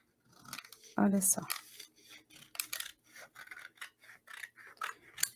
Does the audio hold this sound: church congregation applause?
no